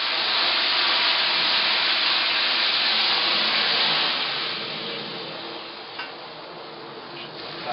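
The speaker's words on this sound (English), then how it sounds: "deglaze the pan with a little red wine to get the stuck bits off of the bottom of it" A hot pan deglazed with red wine for braised cross rib gives a loud, steady steaming hiss that gradually fades, close up with no talking.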